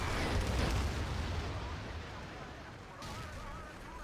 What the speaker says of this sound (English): The hill flag's going to get hit by artillery.